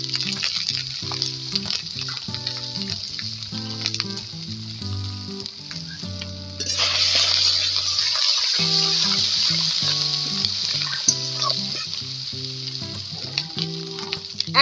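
Turmeric goes into a pan of hot oil with ginger paste, producing a loud continuous sizzle that flares up suddenly partway through, with spoon stirring and clinks over a background hum and no talking.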